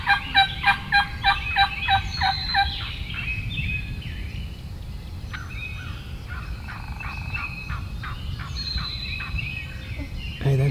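Wild turkeys outdoors during a hunt, with a rapid burst of loud gobbles at the start, then scattered gobbling and softer hen calls at mid distance over a steady outdoor background.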